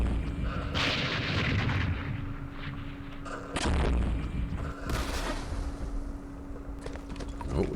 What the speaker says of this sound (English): Let's see if we can do some shooting here.